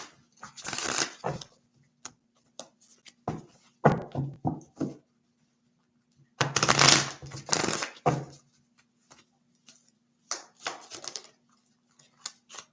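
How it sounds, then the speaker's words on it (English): Cards are riffled and shuffled in several quick, crisp bursts separated by short pauses, close and fairly quiet. "I'm going to shuffle and get a few more."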